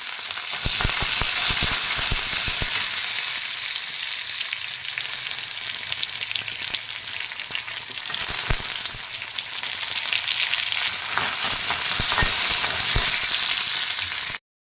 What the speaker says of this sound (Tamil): இப்போ கடாயில் எண்ணெய் ஊற்றி கடுகு போட்டு, கடுகு பொரிஞ்சதும் காஞ்ச மிளகாய்,